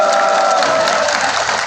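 A crowd at a university labor solidarity rally in Seoul claps and cheers, dense continuous applause that stays loud and steady with no break.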